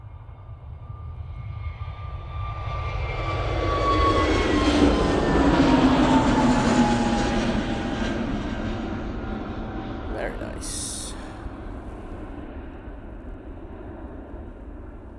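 Jet2 Airbus A321neo departing from an airport, its engine roar swelling steadily to a loud peak around mid-clip and then slowly fading as the jet climbs away, with a descending whine running through it.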